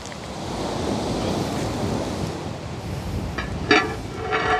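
Breeze blows at the beach, a steady rushing of wind and surf with gusty buffeting on the microphone, and a few sharp clicks and knocks toward the end.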